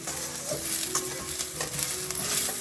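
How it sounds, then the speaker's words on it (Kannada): Sliced onions fry in a pan for a North Karnataka poha dish, crackling steadily while being stirred, with scraping clicks scattered through the close, continuous sizzle. "ಈರುಳ್ಳಿಗೆ ಅದು ಹೋಗೋ ತನಕ ಅಷ್ಟೇ ಹುರ್ಕೋಬೇಕು"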